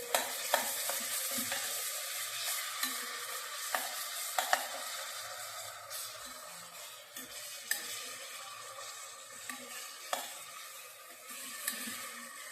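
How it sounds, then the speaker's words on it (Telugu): Onions and ginger-garlic paste frying in hot oil, with a steady broadband sizzle and repeated sharp clicks and scrapes of a spoon stirring the pan, close and fairly quiet, no talk. "2 స్పూన్లు అల్లం వెల్లుల్లి వేస్తున్నానండి. ఇది కొంచెం వేగనిచ్చి టమోటాలు వేద్దామండి."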